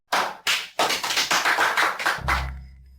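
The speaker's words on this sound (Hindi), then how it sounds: "सब तालियां बजाओ" Sharp hand claps ring out in a quick irregular series, a handful of loud close strikes spaced across a few seconds at a company office gathering, ending with a low rumble.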